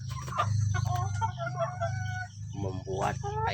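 Free-range village chickens clucking and a rooster crowing close by, a few layered calls in quick succession over a low background hum.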